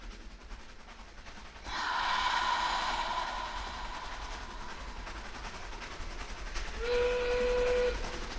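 A train rumbles steadily along the tracks as a steam whistle blows long, and then a second, lower whistle sounds near the end.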